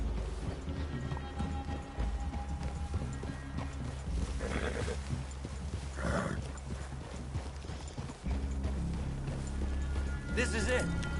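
Horses in the Red Dead Redemption 2 video game, hooves clip-clopping and a whinny amid outdoor ambience and game music, with people talking over it throughout.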